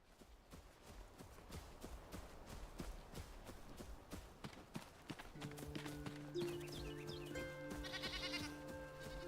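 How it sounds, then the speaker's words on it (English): Sheep or goat bleating in the survival video game Enshrouded, a few short calls near the end over repeated hoof-like clopping footsteps and game music, with no talk. "Do goats actually baa? Like sheep? Maybe that's a sheep, not a goat."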